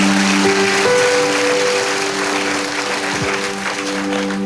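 A church congregation applauds during a Spanish-language sermon, with loud, sustained clapping over steady held keyboard tones, continuous with no break.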